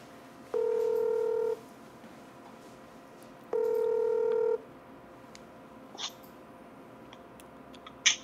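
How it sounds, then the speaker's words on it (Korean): Two long, evenly spaced telephone keypad tones sound clearly as a call is placed during an online church broadcast, each beep lasting about a second against a quiet background. "전화 연결해 보겠습니다."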